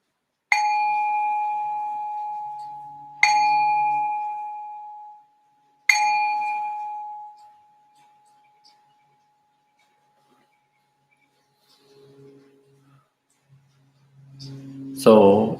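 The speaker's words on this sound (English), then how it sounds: "I'll ring this bell to signal the start of our first meditation" A meditation bell is struck three times in slow succession, each clear ringing tone decaying over a few seconds, followed by a long quiet stretch, faint rustling and the start of a calm voice.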